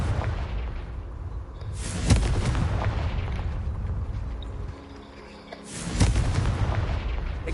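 Confringo blasting spells explode in a Harry Potter wizarding video game: two heavy, booming blasts land about four seconds apart, each trailing into a long rumbling roar.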